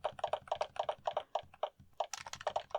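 Clacky mechanical computer keyboard being typed on up close, a steady run of sharp, fairly loud keystrokes in quick bursts with brief pauses, no voices.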